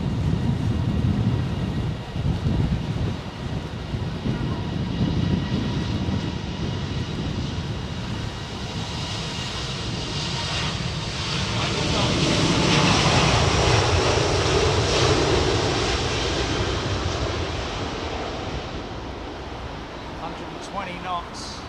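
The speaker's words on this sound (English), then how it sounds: "Take off thrust set." Airliner jet engines at takeoff thrust during the takeoff roll at Heathrow, a loud continuous roar that builds midway and fills the whole clip, with speech over it.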